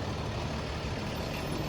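A truck backing up on a road makes a steady, loud engine rumble with broadband roadside noise, continuous and close, with no pauses or speech.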